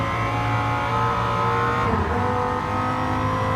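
Dodge Viper race car in Gran Turismo 7, its engine roaring loud and close with a steady high drone and a brief dip as it shifts or lifts mid-run, in a GT2 endurance race.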